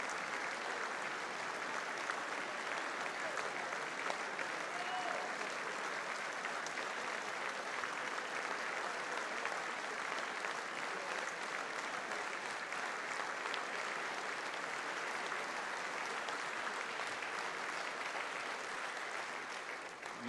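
Prolonged, even applause fills a congressional chamber as King Charles III arrives, a dense unbroken roar of many hands clapping, heard from some distance and holding steady throughout.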